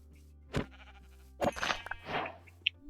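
Sheep bleating in Minecraft: a few short, nasal in-game bleats spaced apart over a quiet background, with a small click near the end.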